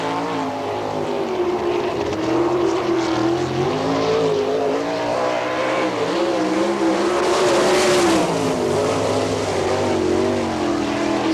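A race car at an All Star Circuit of Champions event in Findlay, Ohio, the 17X sprint car on a qualifying lap, engine roaring loudly and continuously, pitch rising and falling as it laps the track.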